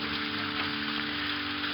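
Steady rain falls outdoors on a park by church grounds, a dense continuous hiss with a low hum underneath, alone with no voices.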